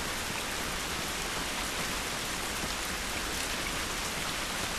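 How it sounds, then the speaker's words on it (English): Steady, dense rainfall in the video game The Last of Us Remastered hisses evenly throughout, a continuous wash of drops with no voices or breaks. "It's raining"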